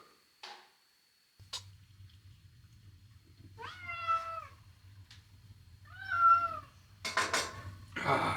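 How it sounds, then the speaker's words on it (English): A house cat meows to be let outside, two drawn-out plaintive meows in a quiet room over a low steady hum, preceded by a few faint clicks and followed by a short burst of clattering. "I think the cat wants to go out."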